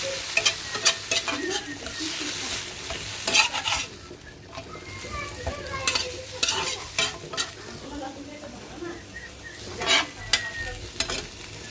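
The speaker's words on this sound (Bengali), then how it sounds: "আমি এখন ভেজে নিব শুটকিটাও" Dried fish crackles and sizzles on a flat pan while a spatula clatters and scrapes in quick bursts throughout, loud and close.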